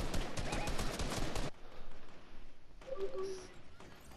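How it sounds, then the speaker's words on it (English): Rapid automatic gunfire in Fortnite blasts loudly for about a second and a half, then stops, leaving quieter game sounds and a few soft tonal effects. "Oh, is someone shooting at me? Shooting from up there."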